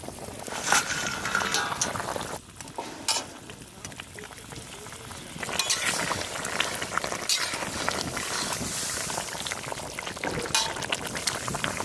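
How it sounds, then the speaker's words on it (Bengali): Ridge gourd curry broth bubbling at a steady boil in a pot, with an even, continuous simmering wash that swells and dips slightly, close and moderately loud, with no talk over it. "ঝোল ফুটে গেছে ঝিঙের তরকারির"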